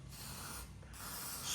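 Contact cleaner hisses from an aerosol can onto a Royal Enfield Himalayan 450 motorcycle throttle body in a short, quiet spray with a brief pause midway.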